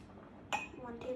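A metal spoon clinks against a ceramic mug while flour is measured for a chocolate mug cake, two short bright taps close by over a quiet background, with a voice talking.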